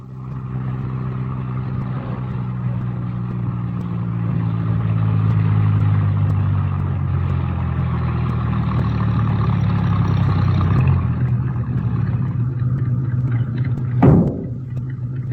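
A Paris taxi engine rumbles steadily and builds as the car drives off, holding a loud low drone for several seconds before cutting out near the end with a brief thump.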